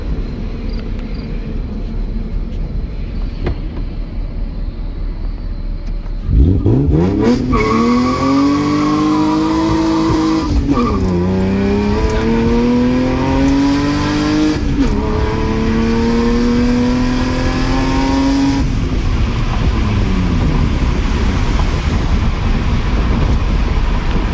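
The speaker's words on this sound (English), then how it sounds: "See how much traffic's on here." Road traffic on a street in Mexico: a car's engine swells close and loud, its pitch climbing and revving as it drives past, while steady traffic noise continues underneath and no one speaks.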